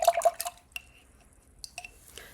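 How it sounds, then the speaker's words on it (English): A paintbrush is rinsed and swished in water, giving a quick cluster of splashy drips and taps against the container, then sparse small drips and a soft clink, close and otherwise quiet. "Rinse my brush."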